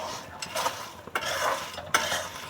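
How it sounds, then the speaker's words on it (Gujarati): Dry tamarind seeds being roasted and stirred in a pan over low heat, with a gentle continuous rustle and scrape broken by three or four sharper clinks of the spoon against the pan, fairly quiet and close. "આંબલિયા શેકાય છે."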